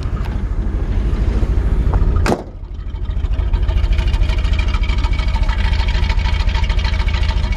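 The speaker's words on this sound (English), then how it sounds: "Pop the hood. Hear the engine run." A 1974 Corvette convertible's engine idling with the hood up, a loud, steady, throaty exhaust rumble close by, with a brief sharp burst partway through before the even idle resumes.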